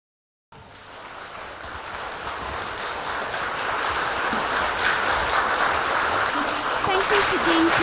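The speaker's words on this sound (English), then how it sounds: "welcoming him with a resounding round of applause from all of us present" An audience welcomes Khenpo Sodargye at a science and Buddhism lecture with sustained applause that starts abruptly and swells into a dense, even wash of clapping that fills the room.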